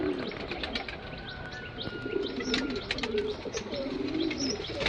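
Kaldom pigeons, big green-tailed birds in a loft, coo in soft repeated murmurs with scattered chirps and a brief flutter of wings, steady and close throughout.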